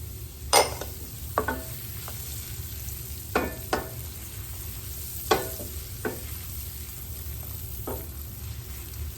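Red onions sizzling in a hot pan, a continuous low crackling fry punctuated by scattered sharp utensil clicks and scrapes from stirring, close and without speech.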